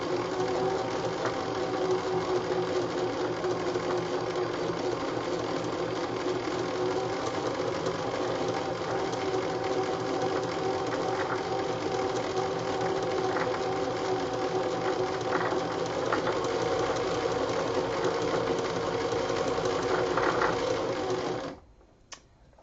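A sewing machine winding thread onto a bobbin runs at a steady, even whir for about twenty seconds, loud and close with a fine mechanical rattle, then stops abruptly near the end; no voices.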